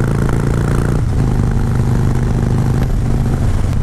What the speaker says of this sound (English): So this is a 2013 Sportster 72.